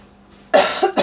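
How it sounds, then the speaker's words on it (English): A single harsh cough bursts out close to the mic after a brief quiet moment, with a short second cough following in a smoky room where wood is burning. "I'm gonna cough"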